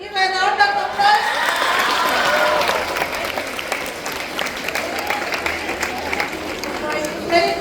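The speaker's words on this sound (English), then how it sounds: "Give a round of applause." Applause from students at a school assembly for Yellow House, a dense burst of clapping rising after a short spoken line and continuing steadily, mixed with crowd noise and voices.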